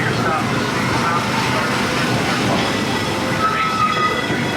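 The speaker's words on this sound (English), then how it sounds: "Remain seated for the train comes to full stop." Disneyland Railroad train rolling steadily along its track, a continuous loud rumble with faint wheel clatter and a brief squeal, with a recorded announcement speaking over it.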